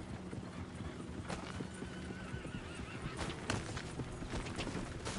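Hooves clip-clop at a steady pace as a horse whinnies in Red Dead Redemption 2, amid busy outdoor game ambience, with no talking over it.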